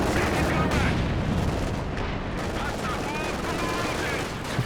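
Dense, sustained battlefield din of frag bombs and rapid gunfire in the Company of Heroes 2 video game, a steady loud wash of overlapping blasts and shots with some voice mixed in.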